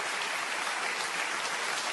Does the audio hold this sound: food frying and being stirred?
no